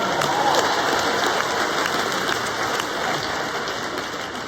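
An audience at a comedy show in Nashville claps in a steady, dense wash of applause that runs the whole time without breaks, fairly loud, with no one talking over it.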